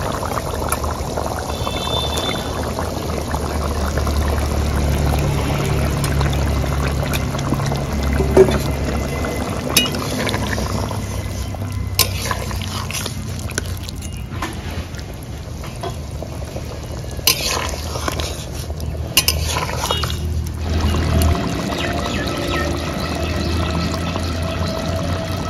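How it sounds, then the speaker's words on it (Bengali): Ingredients going into a simmering Bengali bata fish curry (jhol) with raw pumpkin, with steady bubbling and sizzling, occasional pouring and stirring clatter of utensils nearby, and no talk throughout. "এগুলো ঝোলের মধ্যে দিয়ে দেব।"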